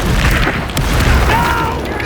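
A Confringo fire spell bursts in the wizard game Hogwarts Legacy, landing as a loud deep boom with crackling impacts over dense combat noise, up close and filling the short moment.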